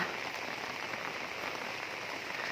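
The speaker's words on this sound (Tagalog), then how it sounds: "umuulan na nga" Steady rain falls and patters on surfaces, a continuous soft hiss with no voices.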